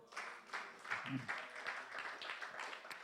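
A congregation in church applauding, with steady, quick clapping lasting the full few seconds. The sound is fairly faint, with voices mixed into it.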